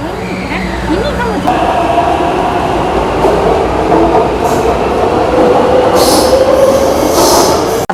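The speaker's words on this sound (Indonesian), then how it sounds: "Kereta ini." A train runs through Taichung, Taiwan with a loud, steady rumble of wheels on rails, a brief squeal early on and hissing bursts toward the end, up close and filling the scene without pause.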